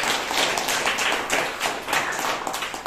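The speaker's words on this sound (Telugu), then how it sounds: "చప్పట్లు కొట్టు" A church congregation claps hands loudly and steadily during a sermon, a dense continuous wash of applause with no pauses.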